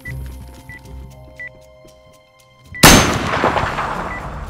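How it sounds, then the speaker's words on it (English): Gunfire in the video game DayZ: a quiet stretch of faint ticks and clicks, then a single loud, sharp shot with a long rumbling tail near the end, with no voices. "Is that him shooting?"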